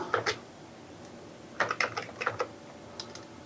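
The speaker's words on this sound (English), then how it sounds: "So here I am typing on the Amiga." Keystrokes on an Amiga computer keyboard, typed in a few quick bursts of clicky taps separated by short pauses, close and fairly quiet, with no talking.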